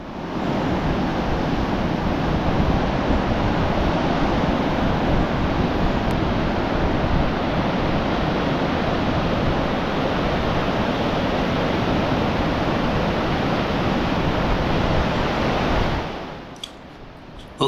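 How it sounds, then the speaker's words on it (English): Rushing water roars continuously as a dense, loud wash under a bridge near Grassington, steady for most of the stretch before abruptly dropping away near the end. "you can almost feel the sheer power of the water gushing underneath."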